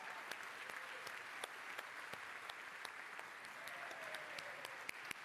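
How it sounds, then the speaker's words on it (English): A crowd at a conference closing gives a round of applause, a steady wash of many hands clapping with sharper individual claps standing out, heard from a distance and quietly throughout. "So huge round of applause for Zante."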